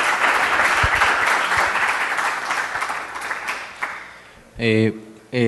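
Audience applause after a lecture by a professor, a dense round of clapping that gradually thins out, followed by a brief spoken voice near the end.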